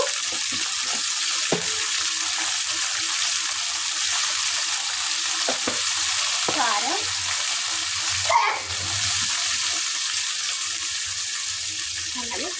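Chicken legs fry in a pan with a steady, continuous sizzle and crackle, made for a Sunday home-cooked chicken fry, with occasional stirring clinks and a brief louder scrape near the end.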